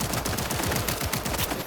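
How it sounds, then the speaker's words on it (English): Rapid gunfire from an enemy in Cyberpunk 2077, a dense run of bursts firing in quick succession for the whole stretch, loud and close with no voices. "now she's shooting at me"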